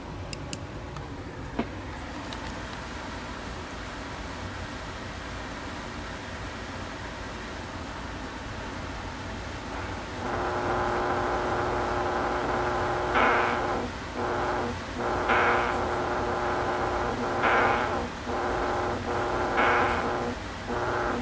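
A 1974 Atari Anti-Aircraft black-and-white arcade game with a faulty sound circuit gives a steady hiss for several seconds. It then turns to a louder, buzzy, pulsing tone that repeats in short bursts, with no talk.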